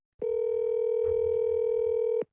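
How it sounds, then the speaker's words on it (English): A steady electronic phone ringback tone sounds once as a single unbroken beep of about two seconds, starting and stopping cleanly with nothing else around it. "She's ringing"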